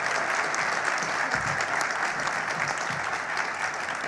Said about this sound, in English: let's give everybody on stage a warm round of applause